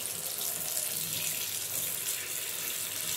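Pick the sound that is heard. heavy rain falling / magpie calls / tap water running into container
tap water running into container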